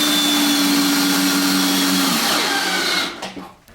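A power driver runs stainless steel screws into a cargo trailer ice house floor, whining loud and steady for about three seconds, then dropping in pitch and stopping with a few short bursts.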